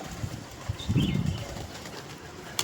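Pigeons being fed gather close by, giving soft low coos and a brief burst of wing flapping over steady outdoor background noise.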